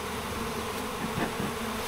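Honey bees swarm and buzz around a low backyard hive, a dense and steady droning hum that fills the space close by, with no talk over it.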